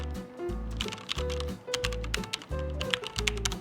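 A mechanical keyboard with red switches is typed on at a brisk pace. The keystrokes are close, light and clattery, heard over background music.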